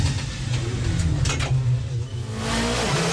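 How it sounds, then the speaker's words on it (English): Touring cars, including a Peugeot, roar at a racing restart with loud, overlapping engine drones, swelling and shifting in pitch as they pass close by. "Patrick Watts in the Peugeot finds a demon route at the restart."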